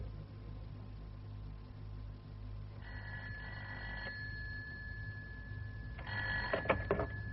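An old-style telephone bell rings twice in a BBC radio mystery drama, each burst lasting about a second, faint and somewhat muffled over a low hiss.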